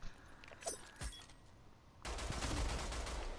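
Gunfire from the video game Rogue Company: a few sharp isolated shots early on, then a dense sustained burst of rapid fire that fills the last second and a half, loud and close.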